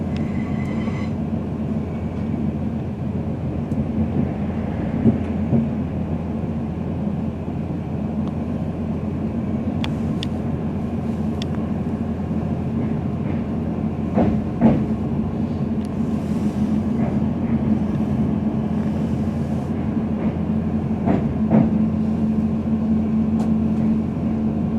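A TransPennine Express train bound for Hull pulls away from Selby station, heard from inside as a loud, steady low rumble and drone with occasional rattles and clunks.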